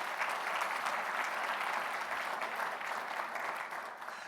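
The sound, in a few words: audience applause for Wayne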